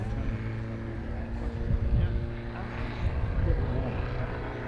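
Model aeroplane flying at the Woodspring Wings model air show, its engine a steady droning hum heard at moderate distance with slight swells in loudness, under continuous outdoor crowd noise and talk.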